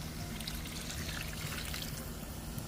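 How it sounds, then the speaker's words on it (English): Hot water is poured into a pot of coconut milk, a steady soft gushing and trickling wash that is quiet and continuous throughout. "And then we'll add some hot water"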